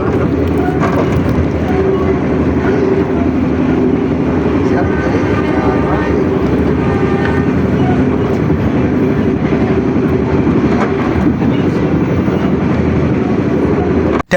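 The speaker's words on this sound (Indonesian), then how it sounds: "Dan saat ini melintas langsung kereta api Wijaya Kusuma yang memiliki relasi Ketapang sampai dengan stasiun Cilacap PP." The Wijaya Kusuma passenger train, running Ketapang to Cilacap, roars loudly and steadily through an Indonesian railway station for the whole stretch, a dense continuous rumble and rattle of wheels and cars passing close by.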